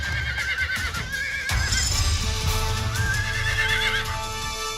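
Several horses whinny and neigh in a video game while taming them on a server, with rising and falling calls repeating over a steady background of hoofbeats and game ambience, loud and close throughout.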